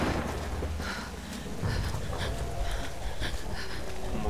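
Thunderstorm with rain in the Tomb Raider video game: a continuous hiss of heavy rain with low rumbling beneath it, steady and fairly loud throughout.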